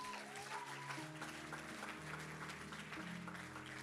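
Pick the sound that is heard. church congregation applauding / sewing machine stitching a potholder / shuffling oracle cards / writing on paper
church congregation applauding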